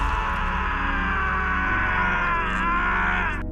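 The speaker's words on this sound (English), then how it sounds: "And listen to this scream." A loud, sustained scream from a character stabbed after falling on a knife in a Cobra Kai karate fight scene, one continuous strained cry lasting several seconds, close and dominant.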